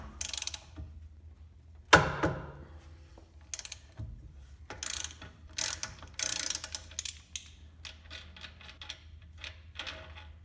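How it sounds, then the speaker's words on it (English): A ratchet with a 32 mm socket loosens the rear hub nut on a 2007-2013 Honda Fit, giving a series of close, crisp clicking bursts separated by short pauses and occasional metallic knocks. "Now with the nut unstaked, I can loosen it with a 32 millimeter socket."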